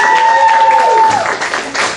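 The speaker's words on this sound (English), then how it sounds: "How many of you, by round of applause, put one of our lines in our hat?" An audience at an improv student showcase claps in a brief, dense round of applause, steady throughout with a sustained tone sitting under the clapping.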